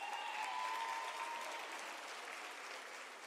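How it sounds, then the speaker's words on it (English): A crowd applauds steadily at a university graduation ceremony, the dense clapping holding at an even level from start to finish and easing slightly toward the end. "I think it deserves a round of applause."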